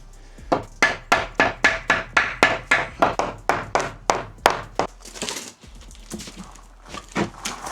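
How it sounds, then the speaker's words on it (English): A hammer strikes a wooden joint about fifteen times in a steady, even rhythm of sharp knocks, close by, tapping it into place in a van conversion, followed by a few scattered taps and handling noises. "Might just need a hammer."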